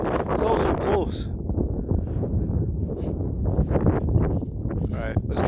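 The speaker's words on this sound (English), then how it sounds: "So this is the top of the hill. It's very windy, but good views." Strong wind gusting against the microphone on top of Benarty Hill in Fife, Scotland, a rough, continuous rumble, with a person talking over it.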